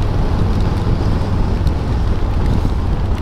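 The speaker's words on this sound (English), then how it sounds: "Ooh, that was a good gust of wind." A strong gust of wind buffets the microphone outdoors near a flag as rain approaches, a steady low rumbling roar lasting a few seconds with no speech.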